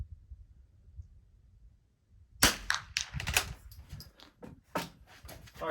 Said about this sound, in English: we need to shoot the middle target near, then the middle target far